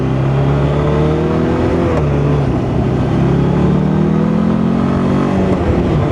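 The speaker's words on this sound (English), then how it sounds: "The engine's a big V-twin, so as you can imagine, loads and loads of torque in this bike." A Morbidelli T1002V's big V-twin motorcycle engine rumbles steadily and climbs in pitch as it accelerates, with a brief dip partway through before pulling up again. Loud and close.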